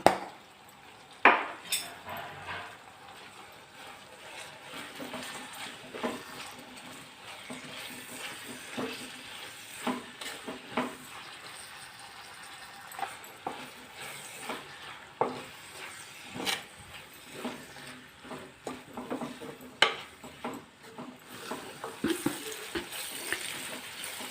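Onion with green chilies, turmeric and salt fries in a pan for a chicken gizzard dish, a soft steady sizzle broken by scattered sharp scrapes and knocks of a spoon against the pan, with no talking.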